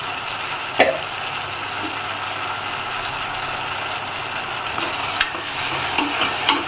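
Sundakkai (turkey berry) sautés in a pan for kulambu, giving a steady close sizzle and frying hiss with a few sharp clicks as a spoon stirs, and no voice.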